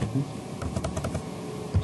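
Typing on a computer keyboard during Linux terminal work, a quick run of close, soft key clicks over a low background hum.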